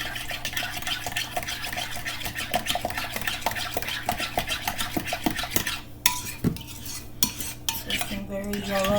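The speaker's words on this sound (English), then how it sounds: "Stir that up." A utensil stirs potato salad seasoned with salt and pepper in a bowl, giving a continuous close scraping and clinking rhythm with occasional sharper knocks against the dish.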